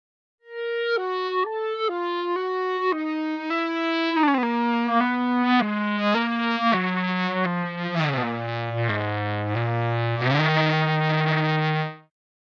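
A legato bowed guitar Kontakt instrument plays a dry melodic phrase with no reverb, smooth sustained notes gliding one into the next, gaining a gritty, dense texture toward the end before stopping abruptly.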